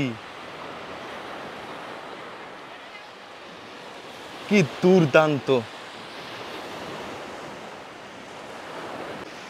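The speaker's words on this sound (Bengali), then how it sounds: "এই প্রথম আমি এত নীল সমুদ্র দেখছি" Ocean waves wash steadily onto the sea beach at Kalapathar on Havelock Island, giving a continuous soft roar with some wind. A voice briefly exclaims partway through.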